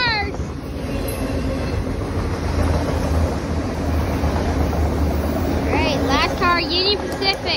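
A Union Pacific freight train rolls past nearby, a steady loud rumble and rail noise throughout, with voices of onlookers chattering over it toward the end.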